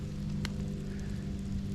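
Light rain sprinkling outdoors beside a brush pile, a soft continuous patter on surfaces with a low steady background hum and one brief sharper tap.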